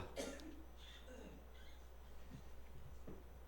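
Someone in a church congregation gives a single faint cough, heard distantly against a quiet background hum with a few soft stray noises.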